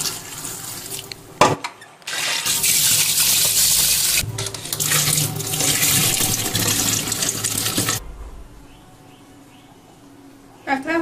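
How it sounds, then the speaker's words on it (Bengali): Crabs are rinsed under a running tap in a sink, a loud gushing stream of water that splashes for several seconds before cutting off into quiet, with a few faint handling knocks. "এবার গরম জল দিয়ে ধুয়ে নেব।"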